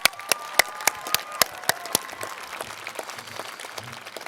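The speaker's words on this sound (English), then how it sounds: "round of applause for Dean On" A graduation audience gives a round of applause for a dean, with sharp individual claps standing out over a thinner crowd clapping that tapers off.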